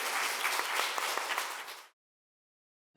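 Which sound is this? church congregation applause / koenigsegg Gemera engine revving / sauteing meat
church congregation applause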